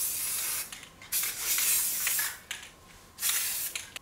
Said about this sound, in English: So I am just going to spray paint the S-hooks, let them dry, and then we can start assembling.